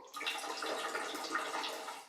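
Water running from a kitchen tap at low pressure, a steady close hiss of flow lasting the whole moment with no talk over it.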